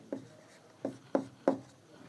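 Pen strokes on paper during a math lesson, four short scratchy bursts spaced unevenly, close and quiet, with no talking.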